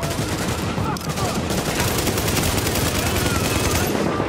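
Sustained gunfire from the video game Tom Clancy's The Division in a Times Square firefight, a dense, steady clatter of rapid shots running continuously and loud throughout with no pauses.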